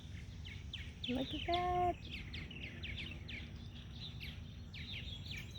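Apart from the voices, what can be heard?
birds chirping on a morning at Lake Anna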